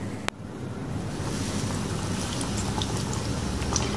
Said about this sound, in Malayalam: ഇനി നമുക്കൊന്ന് ഫ്രൈ ചെയ്തെടുക്കണം.